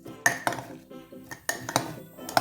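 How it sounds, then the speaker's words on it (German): Onions and honey for a homemade cough syrup are stirred with a spoon in a bowl, producing a handful of sharp metallic clinks and scrapes at an uneven rhythm, close up and fairly quiet. "Dann rührt das ordentlich durch."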